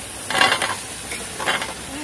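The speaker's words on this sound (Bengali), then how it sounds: "মশলা কষানো শেষ, এখন আমি আমড়া দিলাম" Hog plums tipped into a frying masala for a village-style chicken curry, giving two bursts of sizzling and stirring, one early and one near the end, over a low steady background.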